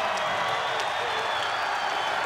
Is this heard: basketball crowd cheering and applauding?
yes